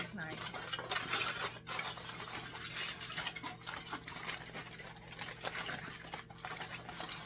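Foil packet dinners of hamburger are folded and sealed by hand, soft, close crinkling and scraping in quiet, irregular bursts over a steady faint hum.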